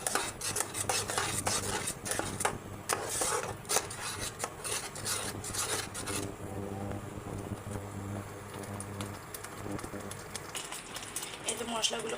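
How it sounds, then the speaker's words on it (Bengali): Powdered spices with turmeric and salt are stirred and fried in a pan for a Rui fish and Malabar spinach curry, a steady scraping and rubbing of a utensil against the pan running throughout, with some talk over the first half. "এখন একটু মশলাগুলো ভালো করে কষিয়ে নেব।"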